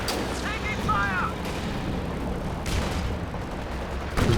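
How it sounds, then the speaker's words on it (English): Grenade rounds fired from a Pershing tank in the World War II strategy game Company of Heroes 2, heard as a few muffled booms amid battle noise, with in-game chatter over it. "The grenades from the Pershing working well there."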